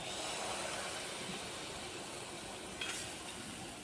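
Mango poa pitha batter spooned into hot white oil, giving a steady, even sizzle and hiss that holds for a few seconds without talk.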